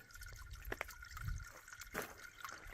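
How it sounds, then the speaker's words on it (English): A small waterfall trickles into a pond in a desert canyon, with faint, quiet drips and soft splashes at irregular intervals and no voices. "Thought I'd stop by this little"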